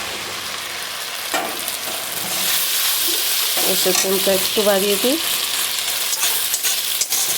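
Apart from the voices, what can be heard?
ginger, coriander powder and green chili frying with onions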